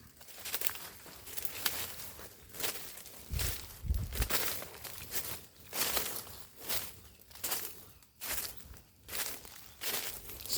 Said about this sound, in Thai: เราย่องเบาๆ มันยังได้เสียงครับ